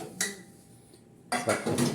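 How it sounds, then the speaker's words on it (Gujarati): Dishes are scrubbed in a home kitchen: a short clatter of pots and utensils, a quiet pause, then a louder run of clinking and scraping close by, with no voices. "રસોડામાં વાસણ ઘસી રહ્યા છે"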